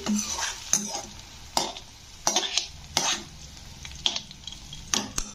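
Bitter gourd slices frying in oil until reddish, with a close, even crackle broken by regular clanks of a spatula against the pan roughly every second.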